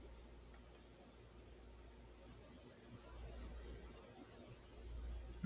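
A computer mouse clicks to send a form, heard as a quick pair of faint, sharp clicks near the start over a low steady hum of room noise.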